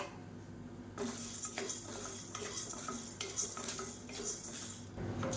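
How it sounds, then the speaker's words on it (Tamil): Chana dal is dry-roasted in a kadai while a utensil stirs and scrapes it, making a steady rattling clatter of lentils against metal with a light sizzle and no voices. "இப்போ இதையும் சேர்த்து நல்லா பொன்னிறமாக வறுத்துக்கலாம்."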